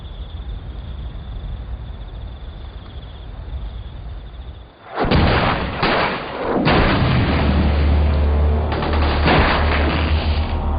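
SAS soldiers trade fire with the enemy: after a steady hiss, loud gunshots break out in sharp, close bursts, then a second cluster of shots follows over a low rumble.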